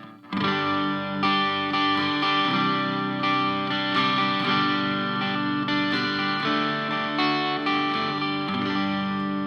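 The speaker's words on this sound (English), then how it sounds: "retro 60s guitar sound" A sustained electric guitar on the neck pickup through a Boss ME-90 multi-effects pedal plays chords and notes with a thick, chorused, slightly distorted retro 60s tone, steady and full throughout with no talking.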